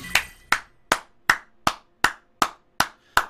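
Hand claps, nine sharp evenly spaced ones at a slow steady rhythm, close and isolated with brief decaying ring after each and nothing else around them.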